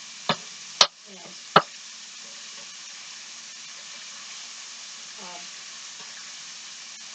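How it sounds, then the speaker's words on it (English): Burgers fry in leftover bacon grease on a griddle, a steady faint sizzle with a few sharp clicks of a spatula early on and a brief murmur of speech. "And I love the idea of cooking them right from the bacon grease."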